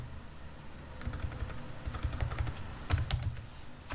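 Rapid, uneven clatter of keys being struck on a computer keyboard while code is typed, close and fairly quiet, with a few brief bursts of quicker keystrokes and no talking.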